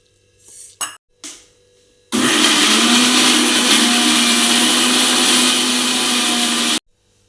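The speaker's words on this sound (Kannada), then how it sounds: "ಇದನ್ನು ಹಾಕಿ ನಾವು ರುಬ್ಬಬೇಕು" A mixer grinder whirs loudly and steadily for several seconds, grinding garlic masala with cooled boiled water, preceded by a few brief knocks as the jar is set up, then stopping abruptly.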